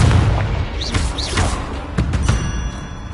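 A Confringo fire spell exploding in the Hogwarts Legacy video game, heard as a run of loud, close booms and thuds with whooshing bursts mixed into busy combat noise.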